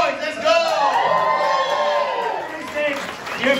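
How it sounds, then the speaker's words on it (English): Saturday-night comedy club crowd cheering, whooping and clapping, loud and close, with shouted voices and a host talking over the din. "Make some noise, let's go!"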